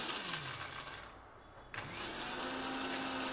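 An electric mixer grinder grinds chhatua flour mix, a steady motor whir that dips in pitch, then surges with a sharp jolt and keeps running loud and close.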